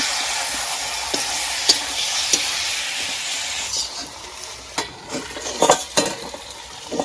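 A spoon stirs a thin homemade chicken curry in a pot, scraping against a steady sizzle and hiss of steam, with a few sharp clinks from the utensil toward the end.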